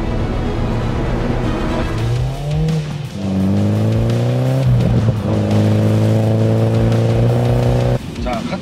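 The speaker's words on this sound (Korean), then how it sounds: "지금 저희가 타고 있는 미니 제시W 2리터 사기통이 231마력이에요" A MINI JCW with a 2-litre four-cylinder engine rev up and down as it accelerates, its engine note climbing in steps, loud and close from inside the cabin, while a person talks over it.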